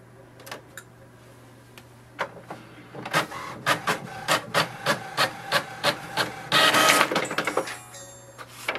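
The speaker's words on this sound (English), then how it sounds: "press the information button once and it will send the printer a command to print a page" An HP Envy 6020 inkjet printer prints an information page: a series of rhythmic mechanical clicks and clunks about every half second, followed by a brief louder whirring feed near the end.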